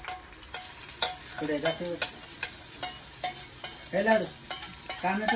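Food sizzling and frying in a pan while being stirred, with a steady sizzle under repeated scraping and stirring strokes, close and fairly loud, about one stroke per half second.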